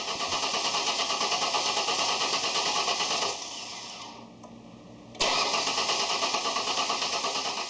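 A Ford Explorer engine cranks without starting: a loud, steady whirring churn that drops away for about two seconds, then resumes just as strongly. No voices.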